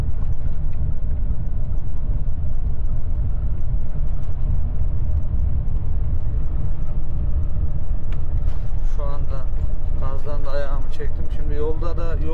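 A truck's exhaust brake holds back a heavy vehicle descending a downhill road, producing a loud, constant low engine drone and rumble while someone talks over it.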